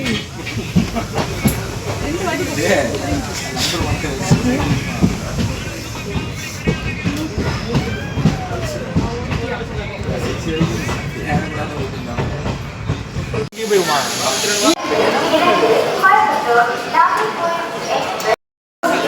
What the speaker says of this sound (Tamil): 20 மினிட்ஸ் ஏர்லியாக நம்ம ட்ரெயின் வந்துட்டு